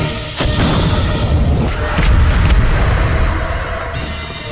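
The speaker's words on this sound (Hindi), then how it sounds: "दोनों नागों को तोप से उड़ा दो।" Loud booming blasts with a rumbling roar, like cannon fire, a couple of sharp hits rising out of a continuous heavy din.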